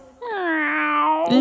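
A single drawn-out meow, high and tonal, sounded close and fairly loud with a slight rise at the end, likely a person imitating a cat.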